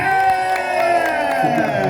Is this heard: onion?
no